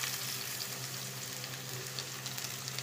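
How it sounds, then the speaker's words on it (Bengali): Potatoes frying in a pan with lutki shutki, giving a steady, close, dense sizzle with no break and no talk. "এখন আলুগুলার একটু এর মধ্যে ভাজিয়ে নেব"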